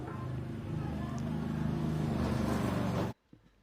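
A repaired DeWalt angle grinder runs steadily with a whirring motor and a slight gear whine, close and fairly loud, then cuts off abruptly near the end.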